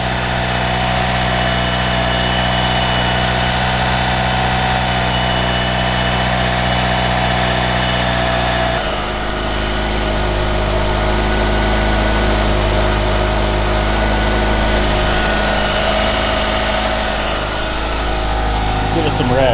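A Mitsubishi Evo 4 engine idles steadily and loudly nearby, running rich, a constant low drone that shifts slightly in tone partway through, with no talking over it.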